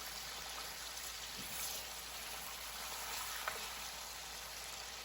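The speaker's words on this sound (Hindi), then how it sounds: "अभी मैं थोड़ी देर इसको ऐसे ही भूनूंगी ऑयल में।" Dumba mutton karahi frying in oil gives off a steady, soft sizzle, a continuous low hiss with faint crackles and no talk.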